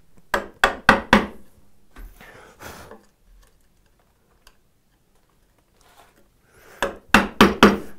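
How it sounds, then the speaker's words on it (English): A chisel is driven into wood while chopping a drawbore mortise for mortise-and-tenon joinery: two close bursts of four sharp, loud knocks separated by several seconds of near quiet with faint scraping. "It's very easy to use this chisel as a wedge and just drive it in there."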